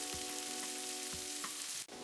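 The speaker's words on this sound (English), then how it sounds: "Listen to that gorgeous sizzle." Chicken pieces and unpeeled garlic cloves sizzle in a hot pan for a golden crust, a steady close frying hiss with a few sharper pops and a brief clatter near the end.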